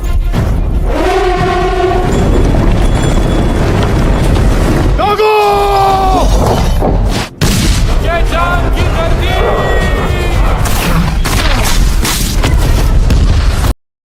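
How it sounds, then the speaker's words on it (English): Cannon fire in a historical battle scene from the film Panipat, the Third Battle of Panipat with artillery against Durrani troops, heard as repeated heavy booms and bursts amid loud, dense battle noise, with voices and music layered over it. "The cannon attack from Ibrahim Khan's troops was able to corner the Durrani troops."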